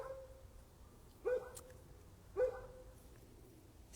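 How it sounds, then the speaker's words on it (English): A neighbor's dog barks twice from a distance, each bark short and faint over a low, steady background hum, about a second apart. "Sorry about my neighbor's dog."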